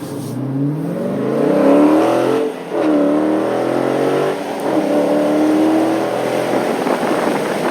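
A 2019 Dodge Challenger R/T Scat Pack Widebody with a manual gearbox revs hard, accelerating onto a freeway and climbing through the gears, its tone rising with each shift, loud and close with steady road and wind noise.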